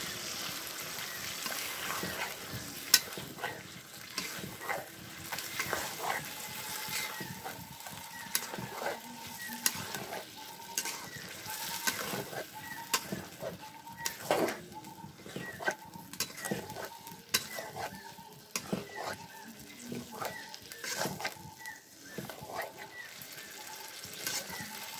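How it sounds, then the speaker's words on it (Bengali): Meat being stir-fried (kosha) in a pot, a soft continuous sizzle broken by repeated scraping stirs and occasional clinks, with faint voices and household noise in the background. "গোশটা ভালো করে কষাই নেব"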